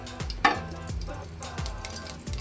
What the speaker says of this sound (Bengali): এবার আমি শুকনো লঙ্কা দিয়ে দিব, কালো জিরা।